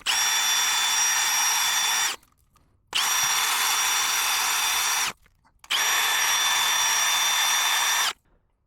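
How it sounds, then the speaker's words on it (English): Three bursts of a powered nylon-bristle tool whirring inside an injector sleeve on an MX-13 engine, each about two to three seconds long with short quiet gaps between, close and steady. "we'll just be using this special tool now, which has got like nylon bristles on the end"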